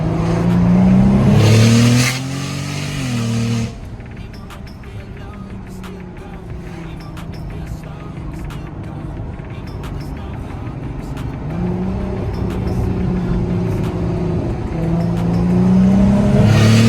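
A 400+ BHP turbocharged VW Golf MK5 R32 with a screamer pipe drives on the road, engine revving up through gears in loud surges with turbo whoosh, easing off and building again, heard from inside the car.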